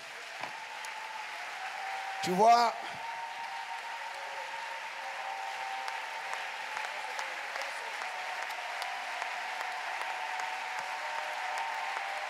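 A church congregation at a prophetic service applauds as an acclamation offering to God: sustained, moderately distant clapping throughout, with a brief loud vocal exclamation early on and someone speaking over the crowd.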